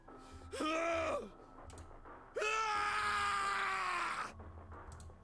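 A man's anguished scream of rage and despair in the video game 999, two long, loud vocal cries with falling pitch separated by a short pause, over a faint low background hum.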